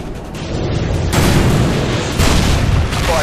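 Heavy booming missile explosions from an AGM strike in Call of Duty Modern Warfare 2 Spec Ops, a loud continuous rumbling barrage with fresh blasts swelling at about one second and two seconds, no talk.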